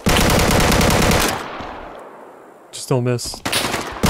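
AK rifle firing full auto in the survival shooter Deadside: a dense, loud burst of rapid shots over the first second, then quieter game ambience and another short burst near the end, with a voice speaking briefly between them.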